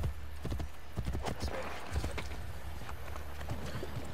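Horse hooves clip-clopping at a brisk, steady gait in the video game Assassin's Creed Brotherhood, the rhythmic clopping heard close over a low background hum.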